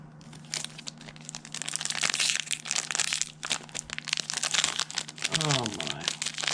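Crinkling, tearing foil wrappers of Ikoria Magic: The Gathering booster packs being ripped open by hand, loud and close, in repeated rustling bursts with a voice talking over part of it.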